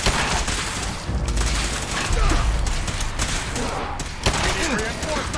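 Incoming gunfire in a post-apocalyptic wasteland shooter, a dense crackling fusillade of shots lasting throughout, loud and close, with voices mixed in.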